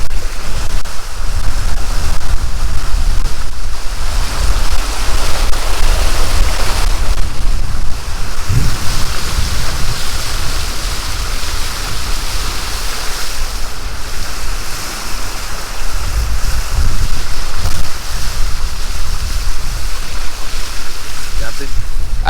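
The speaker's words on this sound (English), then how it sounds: "the vehicle going through the water here" A vehicle pushes through floodwater in hurricane-ravaged Jamaica, giving a steady, loud rushing wash of water with wind noise on the microphone, close by and continuous.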